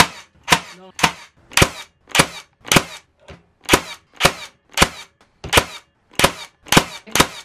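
An Erbauer nail gun from ScrewFix firing nails into hard plywood, with about thirteen loud, sharp cracks at a steady rhythm of roughly one every half second, close to the microphone.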